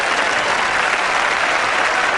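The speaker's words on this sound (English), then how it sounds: "Mark Micken leaves the ground to loud applause from the Crows fans" Adelaide Crows fans applaud at an Australian rules football match in 1991, a dense, loud, continuous wash of clapping from a large stadium crowd that holds steady throughout.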